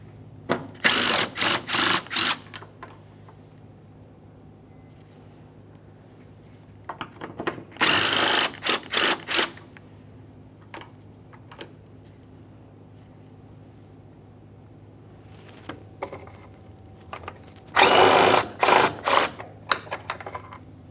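A power tool spins out 10mm headlight mounting bolts on a Jeep Grand Cherokee, with three loud whirring bursts separated by quieter ratcheting clicks and handling noise, close up with no talk.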